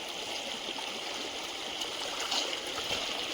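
Water rushes steadily along a jungle stream, a continuous broad hiss and gurgle heard close and unbroken, with no voices.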